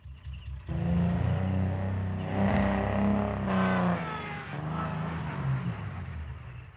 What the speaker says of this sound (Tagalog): Teka, kotse ni Mike yun ah.